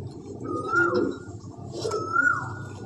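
Andhra pigeon from a breeding pair, a pure bird with bright raw-yellow eyes, gives two soft throaty coos close by over a low background hum, with no talking.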